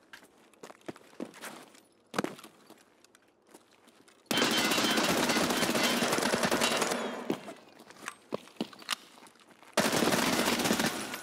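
SR-3M assault rifle fire in Escape From Tarkov: long loud bursts of rapid automatic shots, close, broken by quieter footsteps and scattered distant shots between bursts.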